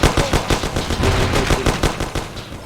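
Rapid, continuous automatic gunfire in the Mafia video game, a loud close burst of repeated shots that rattles on steadily for the whole stretch.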